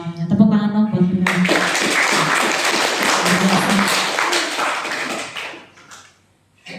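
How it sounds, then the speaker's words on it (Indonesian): Audience at a strategic-planning gathering breaks into steady applause for about four seconds, following a brief spoken voice, before the clapping tapers off into silence. "Tepuk tangan dong buat kita."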